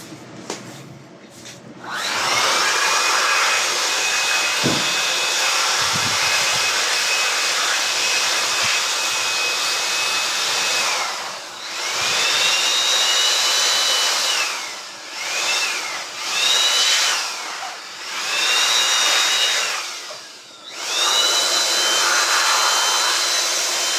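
Indoor air conditioner running with a steady, fairly loud whooshing hum and a faint high whine that dips briefly several times, with no voices over it.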